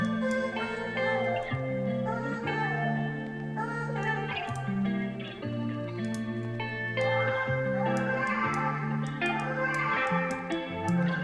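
A soft, processed pattern plays in FL Studio: hi-hats eased with EQ and reverb over a melodic loop, sounding smooth, ambient and echoey, with a steady rhythmic texture and no voices.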